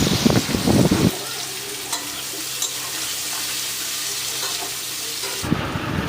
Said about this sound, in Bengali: আর তেলটা গরম ছিল, পেঁয়াজটা দিয়ে দেবো।